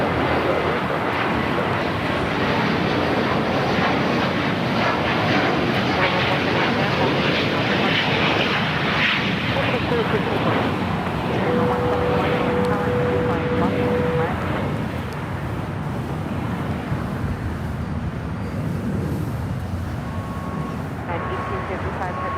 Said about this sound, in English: corporate jet taking off on 25 right